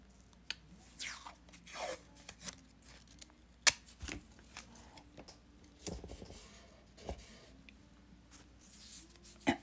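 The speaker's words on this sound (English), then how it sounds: "I want to tape this down." Masking tape is pulled from the roll and pressed down to secure an oil painting of a pink-sky landscape, making scattered soft ripping streaks and rustles, with an occasional sharper tap, faint and close.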